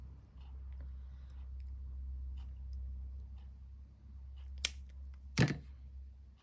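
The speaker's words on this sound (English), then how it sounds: "Where it meets, I just snip it off." Wire cutters snip through thin jewelry wire while a bracelet is shaped with pliers, giving a sharp, close click followed a moment later by a second louder snap over a low steady background hum.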